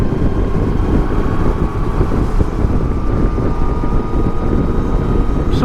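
A motorcycle engine pulls past another vehicle on the road, giving a loud, steady, close roar mixed with rushing wind that holds unbroken for the whole stretch.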